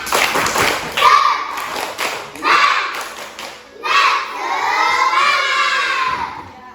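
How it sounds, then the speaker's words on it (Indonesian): Indonesian schoolchildren in a classroom perform the rhythmic 'tepuk semangat' clapping chant, loud bursts of clapping broken by shouted, sung phrases from the group, close and lively. "Tepuk semangat."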